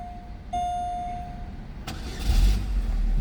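A Chevrolet Malibu with a faulty starter relay fires up after the ignition is turned on: a steady whine, then a sharp catch at about two seconds and a louder engine surge as it starts and settles.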